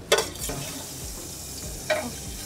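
Butter melting in a pan before onions go in for a millet-based soup; a low, steady sizzle with two sharp utensil clinks against the pan, close by and without speech.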